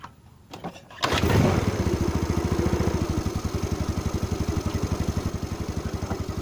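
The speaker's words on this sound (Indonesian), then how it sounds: "Busi sudah kita pasang kembali, kemudian kita nyalakan sepeda motornya ya." A Yamaha Mio motor scooter, just back from a dead-engine fault with its spark plug refitted, cranks briefly and catches, then settles into a steady, close, evenly pulsing idle with no talk.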